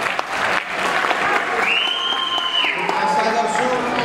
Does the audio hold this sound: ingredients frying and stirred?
no